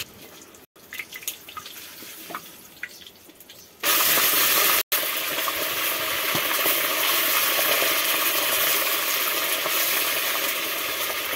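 Brinjal (eggplant) frying on a mud stove, starting with quiet crackles and drips before a loud continuous sizzle bursts in and keeps going close by.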